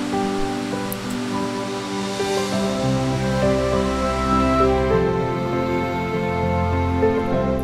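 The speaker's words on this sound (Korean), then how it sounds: "인공폭포로 높이 25m에 폭은 60m에 이릅니다" An artificial waterfall in Seoul, 25 m high and 60 m wide, pours with a loud, steady, close rushing roar of falling water that continues unbroken throughout.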